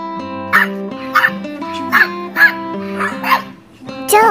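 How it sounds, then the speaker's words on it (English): A dog barking in short sharp yips, about seven quick barks in a loose rhythm, set over a steady tonal musical backing. "Dog."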